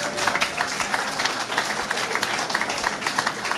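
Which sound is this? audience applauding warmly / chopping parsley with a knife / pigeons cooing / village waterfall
audience applauding warmly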